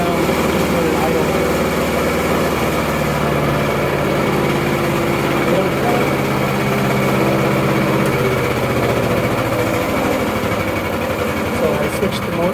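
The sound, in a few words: EFcut C30 engine running then idling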